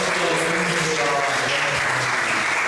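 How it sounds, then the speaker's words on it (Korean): Audience at a book talk event breaks into loud, sustained applause, a continuous dense clapping from a crowd that stays even throughout, with a faint voice briefly audible underneath. "큰 박수 부탁드리겠습니다."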